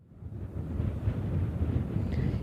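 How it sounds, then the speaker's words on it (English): Gusty wind near a wildfire outside Vacaville buffets the microphone with a low, rumbling roar that swells and rolls unevenly, steady and fairly close with no voices. "we are still feeling that wind sort of whipping things around"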